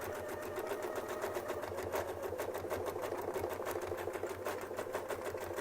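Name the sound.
sewing machine stitching with Westalee Spin E Fex ruler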